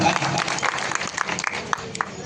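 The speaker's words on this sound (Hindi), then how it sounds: "जोरदार ताली।" A crowd claps at a Hindi-language political gathering, with the applause building over a busy, noisy background and voices mixed in throughout the short burst.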